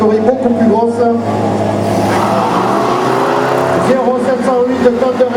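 A Renault 21 driven by a 67-year-old revs hard and launches at a drag race in Chaumont, the loud engine note rising and falling under a commentator's voice.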